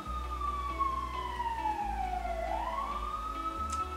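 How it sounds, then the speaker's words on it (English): A wailing ambulance siren sweeps down and back up in pitch as it passes nearby, loud and steady over low road rumble. "really, ambulance?"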